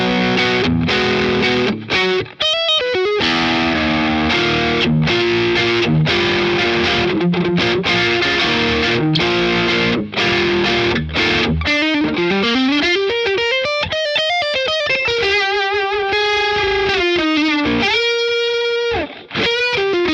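Electric guitar chords run through a BOSS Polyshifter pitch-shifting pedal, strummed with distortion at first, then sliding and gliding in pitch with wobbling, warbling bends, loud and up close, no voices.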